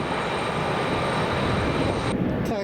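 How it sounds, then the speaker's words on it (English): Steady broadband jet engine roar from an airliner taxiing on runway 23 right at Raleigh-Durham International Airport, continuous and fairly loud throughout, with the upper hiss dropping away near the end. "Taxiing on the runway right now"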